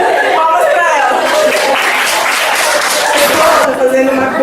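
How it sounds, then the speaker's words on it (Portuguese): A school-project audience applauds a girl, a loud sustained burst of clapping mixed with chatter, laughter and a few shouted voices. "Palmas pra ela."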